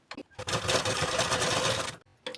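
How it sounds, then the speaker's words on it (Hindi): A sewing machine runs a quick burst of basting stitches on blouse fabric, a steady whirring clatter of about one and a half seconds between short bursts, close and fairly quiet with no talk. "इसके ऊपर पे हमें पहले हम कच्ची सिलाई लगाएंगे"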